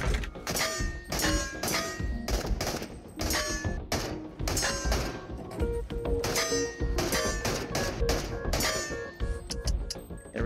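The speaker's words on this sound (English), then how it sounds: "There we go, first time having to reload that" In a video game, a light-machine-gun-style weapon holding about 72 rounds is reloaded and fired amid a rapid series of sharp metallic clanks, thunks and clinks, loud and close, with no talking.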